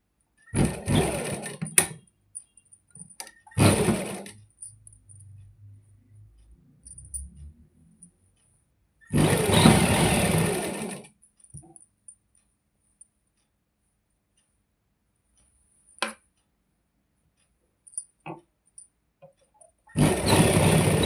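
A sewing machine stitches a salwar in short bursts: two quick runs, a longer run in the middle and another at the end, close and clear, with quiet pauses and faint handling noises between them.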